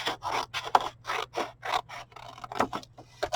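Paper for a shadow box frame is cut with scissors in a quick series of crisp snips, close and distinct, about a dozen cuts in a fast uneven rhythm.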